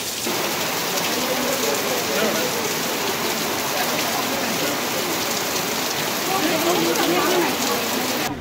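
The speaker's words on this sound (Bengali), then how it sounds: "শুরু হয়ে গেছে জোরদার বৃষ্টি" Heavy rain pours steadily and loudly throughout, a dense continuous hiss with drops drumming on a nearby surface, heard from shelter inside the Sajnekhali watch tower in the Sundarbans.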